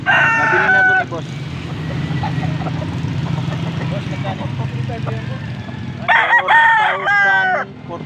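A rooster for sale at an open-air market in Angeles, Pampanga crows loudly and close twice, once at the start and again near the end, over a steady hum of crowd and traffic, with voices talking between the calls.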